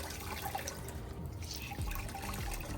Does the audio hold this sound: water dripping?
yes